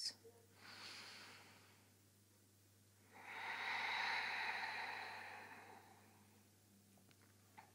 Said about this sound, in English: just breathing softly in and out through your nose